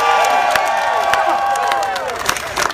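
A rally crowd in Tulsa, Oklahoma cheers, whoops and claps in a loud, sustained roar, with shouting voices rising above the din throughout.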